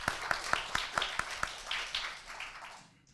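A conference audience claps, starting with a steady series of sharp, evenly spaced claps and then blending into looser, softer applause that fades out, with no clear talk over it.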